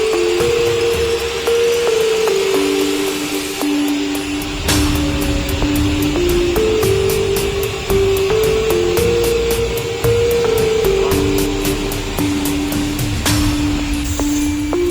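A large hydraulic-lift vacuum emulsifying homogenizer mixer of 200 to 1000 litres stirs its oil pan with a loud, steady mechanical hum, a wavering motor tone and regular ticking clicks throughout.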